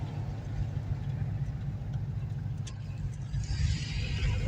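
A 1971 Oldsmobile 98 full-size car cruises along with a steady low engine rumble and road drone heard from inside, swelling slightly toward the end.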